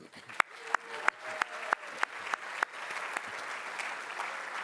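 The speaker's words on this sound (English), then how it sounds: "Please give them a round of applause." Faint applause from an audience at an awards event, a soft wash of clapping with several sharper individual claps standing out at a regular pace near the start, then thinning into a quieter patter.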